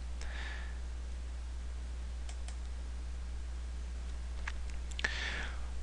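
Single computer mouse clicks, a few sharp isolated taps scattered over a steady low electrical hum, with quiet room tone in between.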